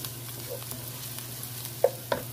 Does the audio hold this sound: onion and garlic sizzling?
yes